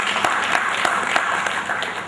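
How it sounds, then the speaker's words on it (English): Applause from the audience at a Nigerian Institute of Quantity Surveyors distinguished lecture, a dense, steady wash of many hands clapping throughout, moderately loud with a few sharper claps standing out. "A round of applause, ladies and gentlemen"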